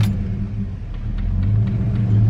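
Car engine fitted with rebuilt GT40 cylinder heads, running at a steady low idle, a deep even rumble close by that grows slightly louder toward the end, with no talking.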